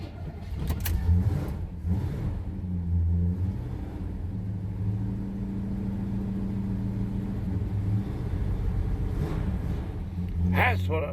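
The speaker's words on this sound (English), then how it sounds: "it fired up, you know, after a little bit of cranking, like it always does" A classic truck engine that has just caught after cranking runs at a steady, rough idle, its low rumble continuous and close throughout, with a brief revving burst near the end.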